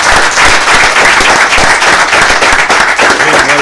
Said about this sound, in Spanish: Pido en principio un aplauso para todos ellos